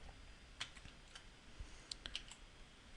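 Keys on a computer keyboard are tapped in a few scattered, faint clicks at a quiet desk, irregular and light, with no talking over them.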